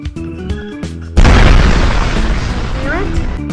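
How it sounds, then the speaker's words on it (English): A loud, deep boom bursts out suddenly and rumbles on, slowly fading, with a voice speaking just before the nuclear blast in a video game. "That will make explode sounds."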